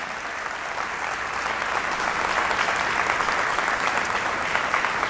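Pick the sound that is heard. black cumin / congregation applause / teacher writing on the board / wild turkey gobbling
congregation applause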